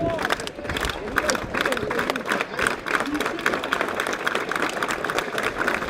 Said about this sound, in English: I love the slow clap.